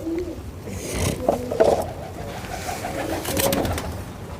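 Pigeons coo softly nearby, a few low rounded calls rising over faint background noise.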